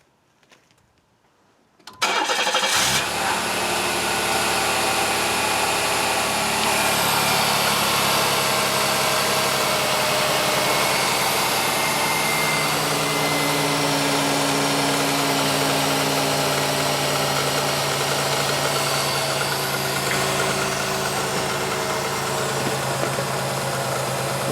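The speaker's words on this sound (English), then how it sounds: "now I'm just going to turn the car on and we'll make sure everything's working all right" Chevrolet Lumina car engine cranking to life after a new serpentine belt is fitted, then settling into a loud, steady, close idle with a low hum and faint whine, following a short quiet start.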